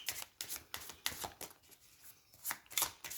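Playing cards being shuffled by hand, a series of crisp riffling bursts roughly every half second, close and moderately loud with brief pauses between.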